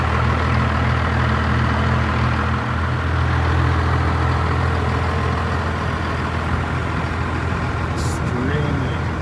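A first-generation Cummins 12-valve diesel pickup truck idles up close, with a steady low rumble and a constant clattering drone that holds even throughout.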